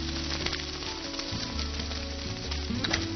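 A meat patty held in onion rings sizzles in a pan under beaten egg, with the heat switched off, giving a constant soft crackle with low hum beneath and no speech.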